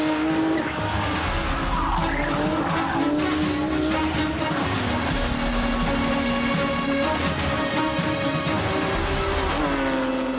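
RS road car driven at speed around a race track on a timed lap, a steady loud engine drone rising and falling through gear changes, with bursts of tyre squeal through the corners.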